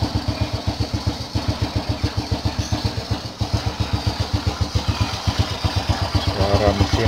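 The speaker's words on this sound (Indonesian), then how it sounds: "Starter tangan masih nyala." An old original Honda Astrea Star motorcycle starts on its electric starter and settles into a close, regular idle, its rhythmic single-cylinder putter steady and slightly rising near the end.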